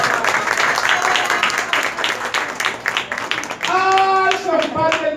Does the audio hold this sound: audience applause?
yes